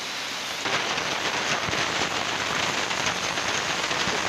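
Heavy rain pours steadily outside a window as a dense, even hiss that swells suddenly in the first second and then holds loud, with no voices.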